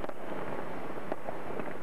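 Fireworks on bonfire night in Sheffield, faint distant pops and crackles scattered over a low outdoor rumble.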